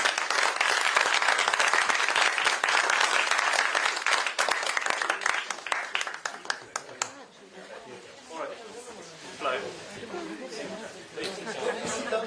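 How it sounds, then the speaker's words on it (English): At the Davos forum an audience gives a panel a round of dense applause that fades after about seven seconds into murmuring chatter, with a few scattered claps and voices continuing. "A round of applause, please."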